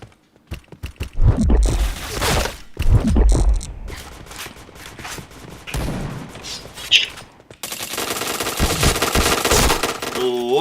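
Video game gunfire crackles in rapid automatic bursts and single shots, loud and close, with pauses between volleys and a busier stretch of continuous shooting and game noise near the end.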